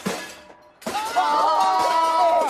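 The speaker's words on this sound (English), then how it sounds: "The huge chandelier began to fall, slowly at first. Then it crashed into the audience." A huge opera house chandelier crashes down into the audience: a sharp shattering crash, then a brief lull and a loud, sustained ringing jumble of breaking glass and metal debris up close.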